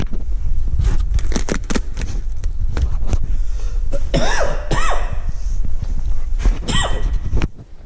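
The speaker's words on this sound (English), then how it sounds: "I'm gonna cut out these coughing parts when I actually edit this video" Repeated coughing bursts, close and fairly loud, scattered through the clip with a few sharper throat-clearing sounds and some clattering between them.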